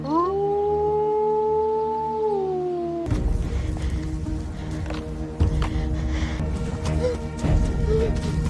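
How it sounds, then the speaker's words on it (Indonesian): A long, wavering animal howl rises and slowly falls for a few seconds, then gives way to rustling, shuffling noise and scattered thumps. "Ketika lolongan serigala terdengar, Joe langsung melakukan pengintaian."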